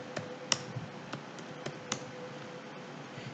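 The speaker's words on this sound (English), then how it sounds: "it's waste of time typing all this" Steady typing on a computer keyboard while coding PHP, with close, distinct key clicks and occasional louder taps over a faint hum, no voice.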